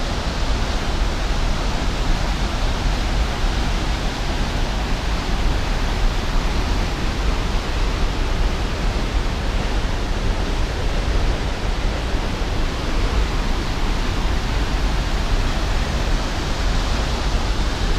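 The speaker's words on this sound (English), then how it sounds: "Beautiful waterfall" A waterfall at South Mineral campground roars as a steady, dense broadband rush, loud and unbroken throughout with no voices heard.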